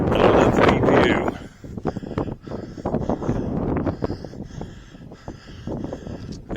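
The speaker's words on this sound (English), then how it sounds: "as you can hear, it is quite breezy here" Breezy wind buffets the microphone on a high hilltop viewpoint, gusting loudly at first and then easing into a steadier rushing with occasional rustles, with no talk over it.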